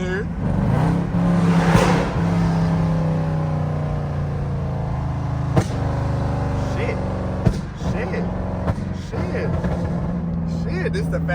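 A 5.7 Jeep engine hums and revs steadily while driving in the rain, a continuous loud drone with a few brief clicks, heard under someone talking.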